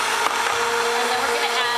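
Blender whirring steadily at close range while lemon juice is beaten into homemade avocado-oil mayonnaise, a continuous motor drone with no pauses.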